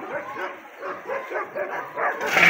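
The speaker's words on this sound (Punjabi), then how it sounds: "ਉਹ ਸਾਡਾ ਕੁੱਤਾ ਕਹਿੰਦਾ" A dog in a Pakistani village barks and yips in a quick series of short, repeated calls at moderate distance, with no talk over it.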